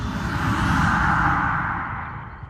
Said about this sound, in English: you will hear the sounding of when he strikes his bell to switch between visible and invisible.